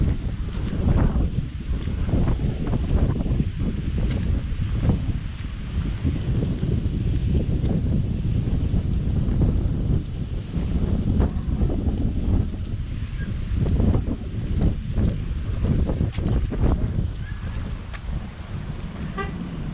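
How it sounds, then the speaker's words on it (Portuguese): Wind blowing across an open lookout at Jardim Botânico in Rio de Janeiro, a constant rushing gust noise buffeting the microphone with irregular louder bursts, no talking. "olha o barulhinho do vento"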